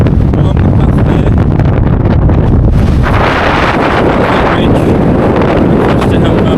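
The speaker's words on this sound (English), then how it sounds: "The wind has picked up now." Strong wind buffets the microphone on an exposed fell path toward Helvellyn, roaring steadily and loudly throughout, with a gustier, brighter rush in the second half.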